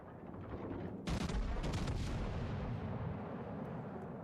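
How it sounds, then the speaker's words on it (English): Naval gunfire from a warship's forward guns in World of Warships Legends: a sudden heavy blast cracks out about a second in, then a booming rumble rolls on and slowly fades. "No, he's shooting with the front guns at the other guy"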